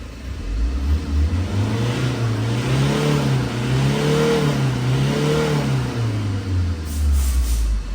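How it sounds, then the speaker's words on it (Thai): A Tata diesel vehicle's engine, recently fitted with a new wiring harness after a warning light and poor acceleration, cranks up and idles with a low rumble, then revs in repeated rising and falling surges, loud and close, with no talking. "อ่ามาติดเครื่องดูกันนะฮะ"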